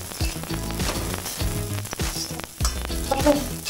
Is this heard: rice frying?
yes